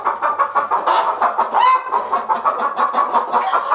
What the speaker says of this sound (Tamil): இது வந்து பார்த்தீங்கன்னா அடைக்கிற்கு கோழிகளோட சவுண்டு.